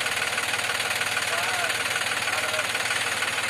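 A sand-laden tractor engine runs close by with a loud, steady, rhythmic knocking chug, and a voice talks over it.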